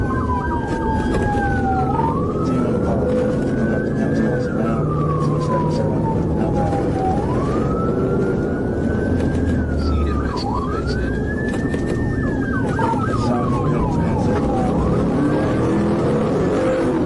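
A police car siren wails in rising and falling sweeps over loud road and engine noise during a high-speed chase down Paul Eales Street, continuous and close throughout.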